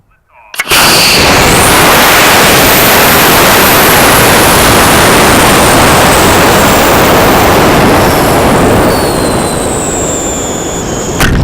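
HyperLOC 835 high-power model rocket motor firing at liftoff, a sudden loud roaring blast that holds steady and harsh for about eleven seconds, slowly fading as the rocket climbs away.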